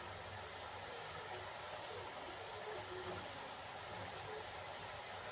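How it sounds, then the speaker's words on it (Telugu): Boondi batter dropped a little at a time into hot oil for boondi laddu, giving a steady, loud, continuous sizzle and hiss that never lets up. "కొంచెం కొంచెం వేసుకుంటే బూందీ మంచిగా ఫ్రై అవుతుంది"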